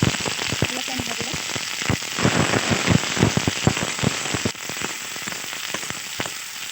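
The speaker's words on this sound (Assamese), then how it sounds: "অলপ টাইম ভাজিলে" Onions fry in hot oil for a prawn malai curry, with dense close crackling and rapid spitting pops over a steady sizzle and brief quiet speech.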